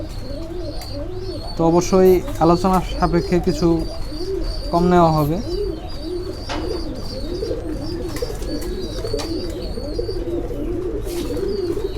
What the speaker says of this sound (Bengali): তো আমরা এখানে এক জোড়া শার্টিন কবুতর দেখতে পাচ্ছি, ঝর্ণা শার্টিন।